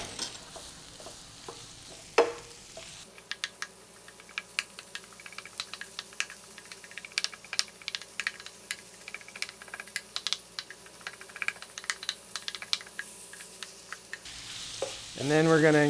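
Ground beef sizzles in a hot pan while a utensil breaks it up, with dense crackling spatter and irregular scraping taps throughout, close and steady, and a louder clatter near the end.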